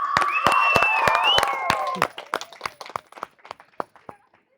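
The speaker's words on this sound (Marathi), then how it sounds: "एकदा टाळ्या जोरदार" Applause at a school function in a Marathi TV drama, honoring a student's dance: a burst of dense clapping over a sustained tone, thinning after a couple of seconds into scattered, fading claps.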